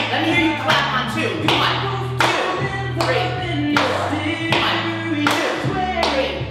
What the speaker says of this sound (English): Let me hear you clap on 2.